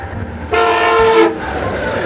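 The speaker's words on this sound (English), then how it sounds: "a northbound FrontRunner went through with Loco 10 leading, with the engineer laying the horn on top of me" Northbound FrontRunner commuter train with a locomotive leading passes close by, the horn blasting in one loud sustained chord over the rumble of the rails, with no talking.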